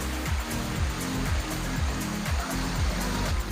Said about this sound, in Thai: นี่เรา เริ่มเดินเข้ามาบริเวณของน้ำตกแล้ว